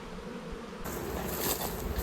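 Honey bees hum in an outdoor bee yard, a continuous low buzzing drone that swells louder partway through as more insects pass close, with no talking.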